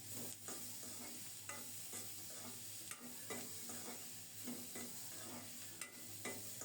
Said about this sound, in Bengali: পেঁয়াজ দিয়ে বেশিক্ষণ ভাজবো না, একেবারে লালচে করব না